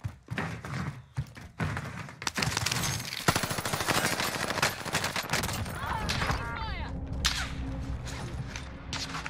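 Dense video-game gunfire in a multiplayer shooter match, with rapid automatic bursts and sharp cracks, loud and nearly continuous, with players talking underneath.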